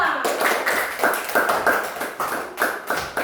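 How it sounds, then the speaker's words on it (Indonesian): Classroom applause for a student group: children clap in a quick, fairly even rhythm of distinct bursts, close and moderately loud, with no talking over it. "Beri tepuk tangan dulu untuk kelompok 2."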